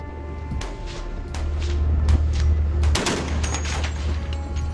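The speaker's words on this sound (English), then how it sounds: "The Coast Guard captain ordered his men to open fire on the Chinese ship." Bursts of heavy gunfire from a Coast Guard patrol vessel aimed at a Chinese squid jigging ship, with sharp repeated reports over a steady low engine drone, a dense cluster of shots near the middle.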